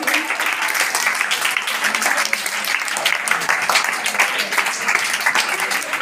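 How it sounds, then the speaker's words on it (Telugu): A crowd at a free dental camp run by a walkers' club claps for Imran sir, steady dense applause lasting several seconds with faint voices underneath. "మన ఇమ్రాన్ సార్కి గట్టిగా ఒకసారి చప్పట్లు కొట్టాలి కదా"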